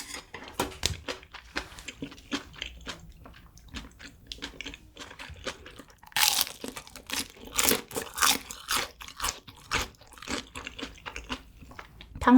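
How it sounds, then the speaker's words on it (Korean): Repeated crisp crunches of biting into crispy Korean fried sweet and sour pork, irregular and close, with loud crackly bites scattered between quieter chewing. "탕수육이 너무 바삭하니까"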